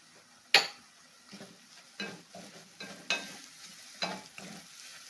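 Chillies are stirred into golden fried onions in a pan, giving a close, soft sizzle with repeated scraping strokes of a spoon about once a second.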